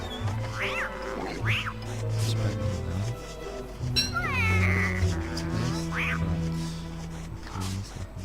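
A kitten in the video game Don't Starve Together gives several short, high meows spaced out over a steady game background hum.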